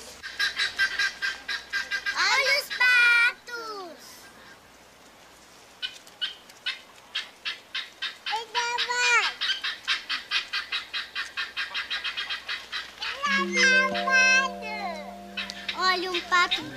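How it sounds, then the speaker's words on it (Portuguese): Ducks and other barnyard fowl calling in a cartoon scene, repeated honking and gobbling calls in dense runs, loud and close, with a voice speaking between them and a brief musical tone near the end. "Olha um pato preto."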